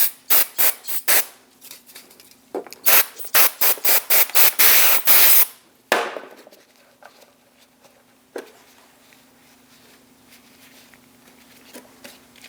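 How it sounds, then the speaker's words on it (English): Brake parts cleaner sprayed onto the rear parking brake parts of a Chevrolet Express 2500 comes as a series of loud, sharp hissing bursts, ending in one long spray, followed by quiet handling noises and an isolated clack. "Use a bit of brake parts cleaner."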